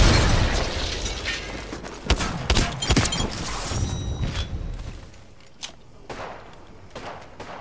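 Grenade blasts from the game Apex Legends go off in a rapid series of sharp booms and bursts, with loud crashing impacts that thin out toward the end among quieter crackles.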